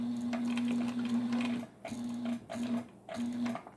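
A sewing machine fitted with a single bracket step-down pulley stitches leather and vinyl in short bursts, a close steady mechanical whir that stops and restarts several times with brief pauses between runs.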